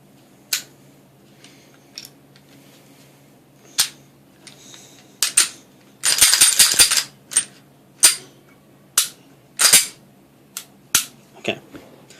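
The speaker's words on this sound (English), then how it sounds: "Put the gun back together." Sharp metallic clicks and snaps as a Ruger SR9C compact pistol is reassembled on a tabletop, with a rapid rattling slide-and-spring cluster midway and evenly spaced crisp clacks after, close and loud against a quiet room.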